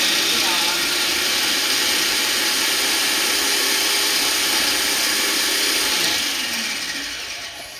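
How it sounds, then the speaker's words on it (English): A countertop blender whirs loudly and steadily while blending peppers and garlic, then winds down and fades over the last couple of seconds. "And then I'm just gonna do those two, blend it up"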